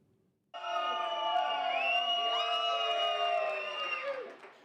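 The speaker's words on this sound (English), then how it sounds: "Cheers rang out across the nation this afternoon, immediately following Canada's win over the U.S." Dozens of hockey fans in a local sports bar erupting in cheers and whoops after Canada beats the U.S., a sudden loud crowd roar that holds steady for several seconds before tapering.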